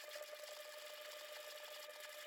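A sewing machine runs a steady, fast stitching line of topstitching on a DIY fabric wallet, a continuous close whirring buzz with no pauses and no talking.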